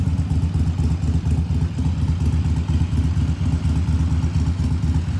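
A motorcycle engine runs steadily nearby, a loud low rumble with a rapid even pulse and slight clatter, no voices over it.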